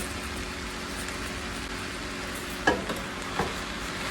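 Shrimp fried rice sizzling steadily in a hot pan, a dense continuous crackle broken near the end by a couple of spatula scrapes and clinks, close and without talk.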